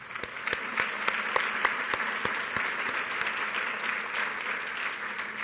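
A conference audience applauds panel speakers at a patient engagement event: steady, close clapping with sharp individual claps standing out, fading slightly toward the end.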